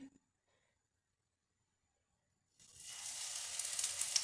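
After a few seconds of near silence, a bright hissing sizzle starts abruptly and continues steadily as pumpkin pancake batter hits a little hot oil in a pan.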